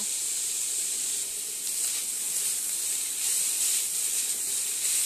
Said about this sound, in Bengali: এইভাবে ভাজতে হবে।